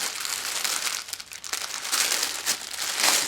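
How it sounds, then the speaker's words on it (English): Package wrapping crinkles and rustles continuously for a few seconds, close and fairly loud, with uneven bursts of crackling and no talking. "there will be crinkling"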